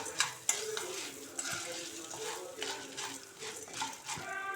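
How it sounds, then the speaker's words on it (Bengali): A spoon stirring popcorn kernels in butter and salt in a hot pan, with scraping clinks against the metal over a soft sizzle, close and fairly quiet with a few sharper knocks. "একটা স্পুনের সাহায্যে পপকর্ন সিজটাকে ভালো করে নেড়ে নেব।"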